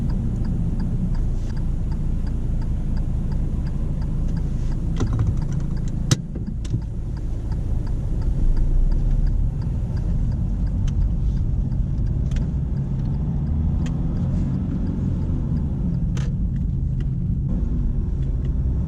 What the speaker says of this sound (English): When Dee turns right, she doesn't stop too early and continues with the turn as there are no oncoming vehicles.